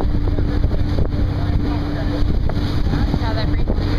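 A harbour breeze buffets the microphone with a loud, steady rumbling rush, while water and a boat engine churn underneath and a voice speaks over it.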